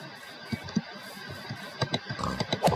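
Pigs in Minecraft give a scattered series of short, low grunts and oinks over a steady background hum from the game.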